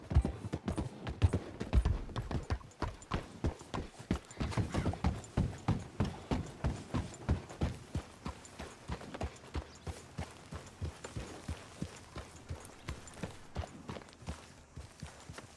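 Horse hooves clip-clopping steadily as riders travel together in Red Dead Redemption 2, a dense rhythmic patter of several hooves that starts louder and settles into an even walking beat throughout.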